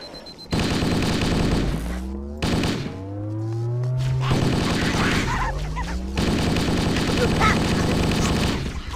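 Gunfire rattles in Halo: Combat Evolved as the player fights tough Covenant enemies on a bridge, with bursts of shots running through most of the clip over game music and effects.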